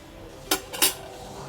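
Two quick metallic clanks from a lid set onto a boiling pot of vegetable pulao: a light tap followed by a louder clatter, close by, in an otherwise quiet kitchen.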